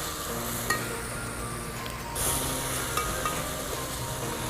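Carrot halwa with almonds, pistachios and raisins sizzles in a pan while being mixed, a close continuous hiss with a few light clinks of the spoon against the pan.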